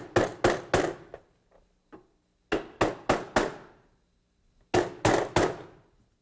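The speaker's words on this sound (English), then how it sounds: "and clamp this down, and then just gouge that out." A wood gouge, a number 11 veiner or a number 8, carves out an opening in wood held down with holdfasts. Close, sharp mallet-like knocks come in quick bursts of three, separated by short pauses and a few lighter taps.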